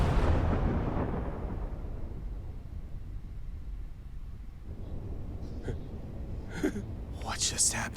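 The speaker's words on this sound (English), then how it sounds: "Was that a nuclear missile?" A missile bombardment explosion in Fire Emblem: Three Houses opens with a loud deep boom that rolls into a long, fading rumble, followed by scattered sharp crackles and debris sounds later on.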